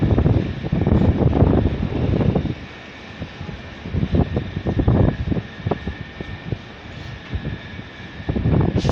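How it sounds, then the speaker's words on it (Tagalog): Strong wind gusts roar and buffet against the microphone at a tower crane dismantling site, swelling loudly in several waves with brief calmer lulls between them. "Napakalakas talaga ng hangin."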